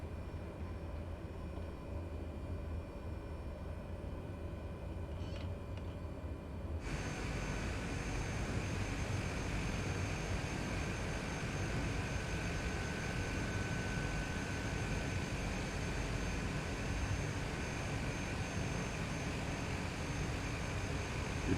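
A flight simulator video game plays an aircraft engine drone as the plane rolls onto runway 24. The drone is steady and continuous, then grows louder and fuller partway through and holds there to the end.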